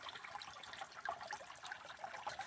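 Water flows out the end of a gold sluice into deeper standing water, producing a soft, steady babbling trickle at low volume with no voices.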